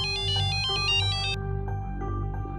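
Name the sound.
phone ringtone, incoming call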